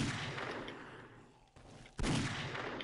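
Hipfire gunshots in a video game. Sharp cracks come at a moderate level over a noisy game background, then fade, and a sudden loud burst of fire returns near the end.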